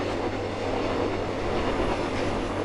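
A freight train hauling cement rolls along the rails with a loud, continuous rumble and a steady clatter of wagons.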